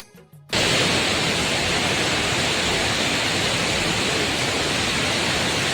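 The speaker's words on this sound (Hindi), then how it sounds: "ये वहीं के दूसरा झरना दो ठोके मतलब एक के ऊपर एक।" Steady broadband roar of a two-tiered waterfall, water dropping from one ledge onto another at the foot of steep steps, loud and constant after a brief quiet start, with no voices.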